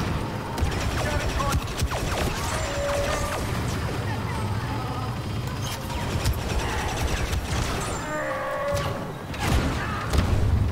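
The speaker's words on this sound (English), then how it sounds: "Grenade!" Loud video-game combat din in a shooter, with crashing thuds and mechanical clatter and a grenade blast among repeated impacts, busy and close throughout.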